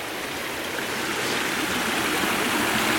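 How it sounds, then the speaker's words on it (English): A small water cascade beside a woodland trail rushes and splashes in a steady broadband wash, close and constant with no voices over it. "And a little cascade."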